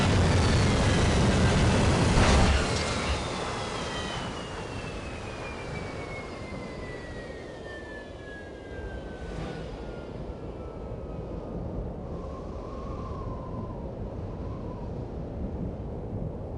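An aircraft in the video game AVP 2 flies through hurricane winds: a loud, rushing roar at the start fades into steady buffeting wind, with a long, slowly falling engine whine sweeping across.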